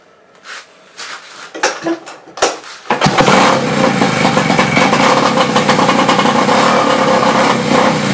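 A 1970 Johnson Skee Horse snowmobile engine catches after a few scattered knocks and clatters, then runs loudly and steadily at a rough idle close by for several seconds.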